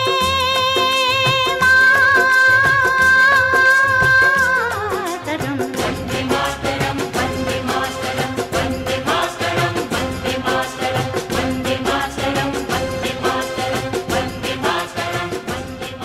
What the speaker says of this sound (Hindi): ये सॉन्ग है वंदे मातरम